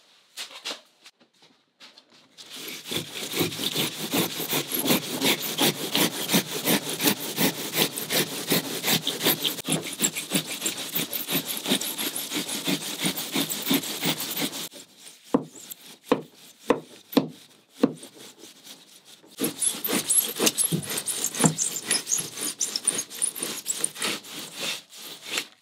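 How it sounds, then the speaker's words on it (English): A hand saw cuts through wood for a 2.4mR sailboat build, with fast rhythmic back-and-forth strokes up close, a brief pause with a few scattered strokes, then steady sawing resumes. "So what I'm doing right now is I'm taking my saw and I'm just cutting"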